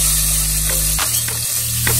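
Onions hit hot oil with browned cumin seeds for capsicum rice, bursting into a loud, close sizzle with a few stirring scrapes over the steady frying hiss.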